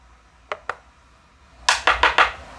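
Small glass vials with cork stoppers handled on a table: two light clinks, then four brighter glassy knocks in quick succession, close and fairly soft, with no talking.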